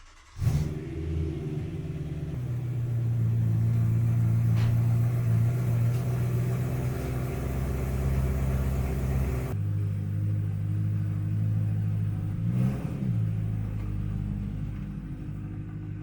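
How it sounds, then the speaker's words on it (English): A BMW E92 M3 engine with the rear muffler removed starts with a thump and settles into a loud, deep, raspy rumble, idling steadily with a couple of throttle changes, close by. "I'm also going to start the car so I can see what it sounds like"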